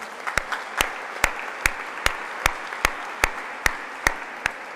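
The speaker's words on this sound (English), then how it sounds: "So Dr. Karat deserves a big round of applause for the vision" At an International Day of Peace event, a crowd claps in a steady, evenly spaced rhythm, each sharp clap standing out over a wash of scattered applause.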